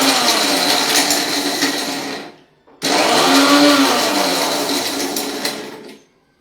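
An electric mixer grinder whirs loudly as it powders roasted spices, running steadily for about two and a half seconds, cutting off briefly, then running again for another three seconds before stopping.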